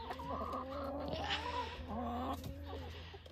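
Chickens cluck and call repeatedly in a farm coop, several overlapping birds close by, with a steady low hum underneath and no talking.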